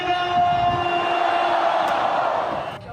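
Devotees at the Baishatun Mazu pilgrimage cheer as the goddess's palanquin enters Chaotian Temple in Beigang, a dense, steady roar of a large crowd with sustained shouting, fading slightly at the end.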